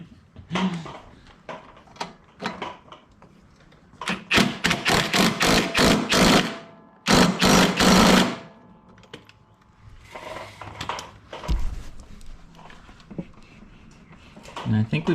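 Impact wrench rattles in loud bursts on the belt pulley of a Toro mower while the blade belt is held, two main hammering runs with clicks and handling noises between, close by, with people talking nearby.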